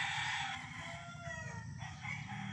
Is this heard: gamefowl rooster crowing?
yes